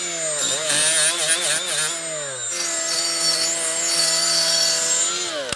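Rust being scrubbed off a rear brake hub on a 2004-2009 Mazda 3, a loud, continuous harsh rasping with shifting tonal whine, steady throughout with a brief pause partway.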